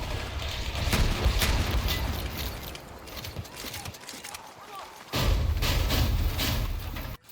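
Heavy explosions and booming impacts in the multiplayer shooter Battlefield, a dense rumbling battle din with repeated thuds, dropping briefly around the middle before loud blasts return.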